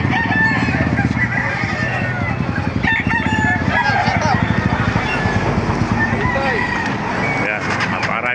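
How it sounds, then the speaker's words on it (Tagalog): Many chickens and roosters cluck and crow in a dense, continuous chorus at a busy poultry market in Baliwag, with someone talking over the birds and faint vehicle noise in the background. "napakaraming manok kayo dito sa Baliwag"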